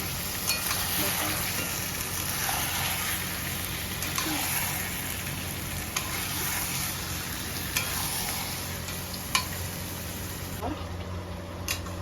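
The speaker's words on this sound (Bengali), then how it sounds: "মাংস কড়াইতে চলে গেছে, এবার শুধু নাড়াচাড়া করে একটু" Country chicken leg pieces fry in a kadai with a steady, dense sizzle, broken by occasional scraping clicks of stirring.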